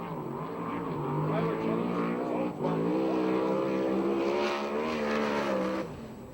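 A USAC/CRA sprint car, number 34, laps the Perris track in California with a loud, sustained engine roar rising and falling in pitch, then fading at the end, under an announcer's talk.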